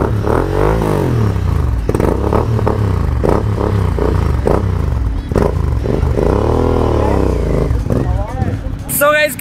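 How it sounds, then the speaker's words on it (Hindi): Kawasaki Z900 motorcycle exhaust revving up close in repeated loud throttle blips, pitch rising and falling with each rev, ending in a sharp, high rev. "अब एग्जॉस्ट की साउंड सुनेंगे कैसी है,"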